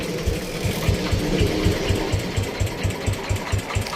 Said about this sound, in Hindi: हमने रॉयल एनफील्ड को स्टार्ट कर लिया है।